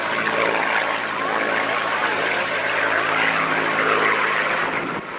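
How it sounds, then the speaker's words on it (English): A Lancaster bomber flying overhead at the Biggin Hill air fair, its propeller engines producing a loud, steady, rumbling drone that fills the air throughout. "And if we look up now, we can see the Lancaster with its cavernous bomb bay wide open."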